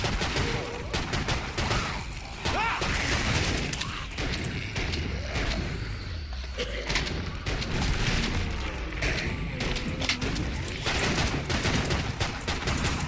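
Dense gunfire in the video game Killing Floor 2, rapid automatic bursts and booming shots layered over one another in a loud, continuous barrage with game voices mixed in.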